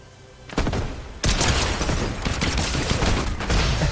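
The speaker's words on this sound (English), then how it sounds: "this pistol is amazing." Rapid pistol gunfire in the Fortnite video game, a brief shot or two followed by a loud, dense burst of overlapping shots and impacts that carries on steadily to the end.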